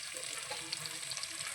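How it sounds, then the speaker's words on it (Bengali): Onion and garlic frying in a pan for pav bhaji give a steady, close, hissing sizzle that lasts the whole short moment, with no talking. "এখন আমি পেঁয়াজ রসুন দিয়ে একটু ভাজা ভাজা করে নিয়ে"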